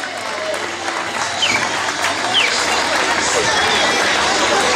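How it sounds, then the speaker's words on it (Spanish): Applause from spectators along a running race route in Carballiño, loud steady clapping and cheering from a crowd close by, with voices and chatter mixed in. "Vamos, fuerte aplauso."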